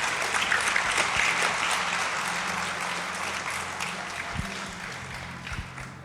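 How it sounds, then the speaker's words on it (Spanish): A church congregation claps loudly and continuously, a dense wash of many hands that fades slightly toward the end, with a few stray louder claps, no speech. "denle un fuerte aplauso a esas personas valientes que van para allá"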